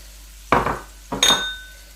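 Chopped tomato drops into a pan of frying onions with two quick clattering thumps and a brief hiss, separated by a short pause, against quiet background.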